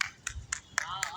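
A farmer claps his hands to call birds, five sharp claps in an even rhythm, close and fairly quiet.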